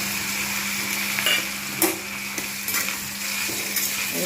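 Yardlong beans tossed into potatoes frying in oil, a steady close sizzle with occasional stirring clinks and scrapes of a utensil against the pan.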